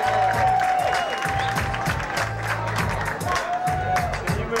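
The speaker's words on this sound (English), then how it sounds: "Keep those applause going" Audience at a Miss Krash International 2000 beauty pageant swimsuit competition applauds and cheers in a dense, steady wash of clapping and crowd noise, with a low sustained tone underneath and a voice now and then.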